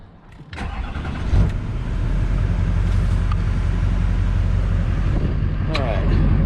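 A 2005 Chevrolet Silverado Duramax diesel pickup cranks and fires up nearby, settling into a loud, steady clattering diesel idle, with a couple of brief clunks over the running engine.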